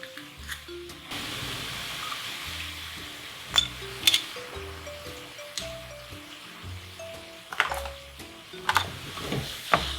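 Tomatoes and crushed garlic sizzle steadily in a pan while a utensil stirs them, with sharp metallic clinks against the pan rising now and then, most clearly in bursts near the start, middle and end.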